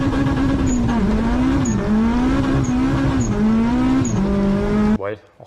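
A Toyota Supra with a 2JZ engine runs steadily and loud for about five seconds, its note wavering slightly with small revs, then cuts off abruptly into near silence.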